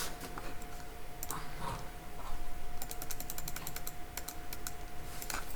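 Someone typing on a computer keyboard to enter a function into an online graphing calculator: fast, even runs of close key clicks in short bursts, with no talk.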